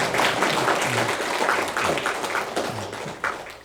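A church congregation at a Sunday service claps loudly to welcome a visiting pastor and his wife, a dense continuous patter with a few voices mixed in.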